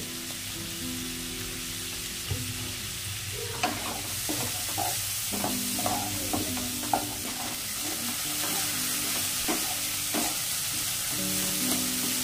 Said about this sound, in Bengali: চিংড়িগুলো লাল লাল করে আমরা ভেজে নিয়েছি।